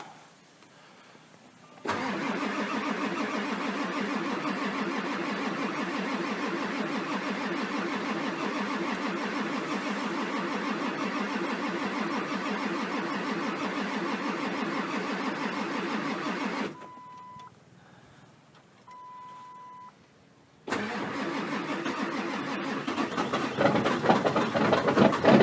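A 1999 Ford Super Duty diesel makes a cold start, with a long, steady, loud mechanical drone that cuts off into near silence. Two short electronic chimes follow, then the engine noise kicks back in and grows rougher.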